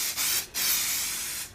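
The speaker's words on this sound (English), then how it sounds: "I'm going to spray it with this stuff here. It's called Stoner Rocket Release." Stoner Rocket Release mold release sprayed from an aerosol can while making a mold of a skull: a short hiss, a brief pause, then a longer steady close-up spray, with no talk.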